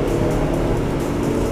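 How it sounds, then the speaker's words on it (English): A loud, deep Mercedes AMG V8 exhaust burble rumbling steadily up close, thick low-end growl with no voices. "there's the sound of fury that's emanating from those exhausts"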